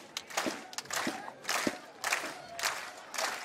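Packed arena crowd at a Swedish team match roaring and cheering in repeated surges, loud bursts of massed voices rising and falling with brief dips between them.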